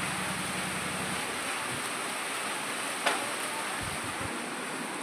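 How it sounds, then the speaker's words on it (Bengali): Heavy rain falls steadily as a dense, even hiss, moderately faint and constant, with a brief soft knock partway through and no talking. "ভালোই জোরে বৃষ্টিটা হচ্ছে দেখো"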